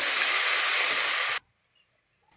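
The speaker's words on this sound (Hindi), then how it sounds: "सभी सब्जियों को एक से दो मिनट फ्राई कर लेते हैं।" Vegetables with ginger-garlic paste frying in a pan for vegetable fried rice, a loud steady hiss lasting over a second before cutting off abruptly into silence.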